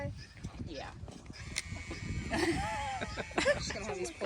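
Goats bleating on a farm, several wavering bleats rising over a busy background of nearby chatter and movement, with people talking throughout.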